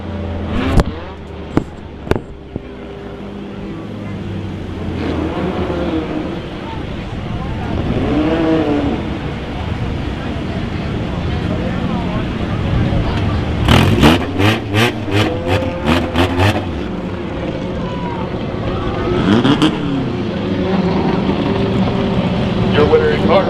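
Race cars roar around East Carolina Motor Speedway in Robertsonville during the Mothers Day 225, engines rising and falling as cars pass one after another, with rapid rhythmic bursts, sharp clicks and a voice talking throughout.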